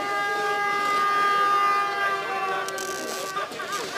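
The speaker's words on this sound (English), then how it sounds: "Plenty of air horns at the bottom of the run here in Kranjska Gora." Loud, sustained air horns blare together in chords over a crowd at a para alpine giant slalom finish in Kranjska Gora, steady for a few seconds before breaking into shorter blasts.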